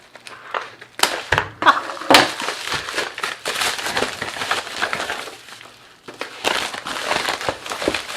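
Package being unboxed: loose crinkling and crushing of packing material and paper, in irregular bursts of rustle and crackle with short pauses, close to the microphone, with no talk.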